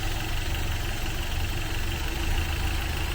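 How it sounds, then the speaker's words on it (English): A Toyota 22RE engine idles steadily after a timing adjustment, a continuous even rumble close up and fairly loud, with no talk. "now you heard the idle pick back up and the engine is running a little bit smoother"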